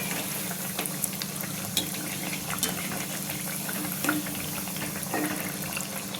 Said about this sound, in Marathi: आता ह्याच्यामध्ये सोडून मी तळून घेते बिस्किट